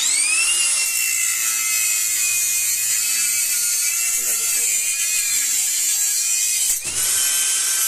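Dnipro-M DGA-20 cordless angle grinder spinning steadily with a high, whining motor tone for most of the clip, briefly dipping near the end as the disc is bent against its protection, with someone talking over it.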